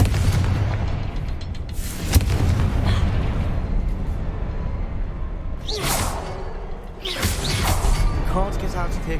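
In the Hogwarts Legacy video game, a Confringo fire spell goes off as loud booming blasts with whooshing bursts, several impacts spread across the stretch over a constant rumbling game soundscape, with a voice speaking briefly.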